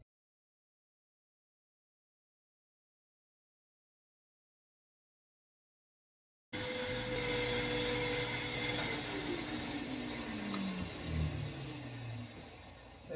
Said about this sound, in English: it's going to get loud because I got to turn on shop vac and the unit